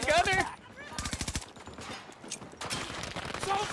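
Rapid bursts of automatic gunfire in the video game Battlefield 2042, several distinct rattling volleys separated by short gaps, loud and close, with players talking in between.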